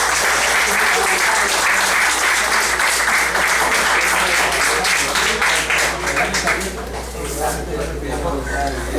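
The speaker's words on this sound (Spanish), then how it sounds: "yo les pido un fuerte aplauso a Kevin." Sustained, loud audience applause at a startup conference on Israel as a startup nation: dense clapping from a large crowd fills all nine seconds and eases slightly toward the end.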